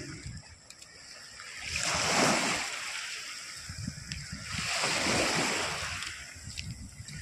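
Sea waves wash in twice, each swelling into a broad hissing rush and splash before ebbing away, with wind buffeting the microphone in between.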